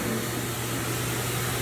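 Loud, constant roar of a pet grooming blower drying a dog, a dense steady rush of air with a low motor hum, close and unbroken.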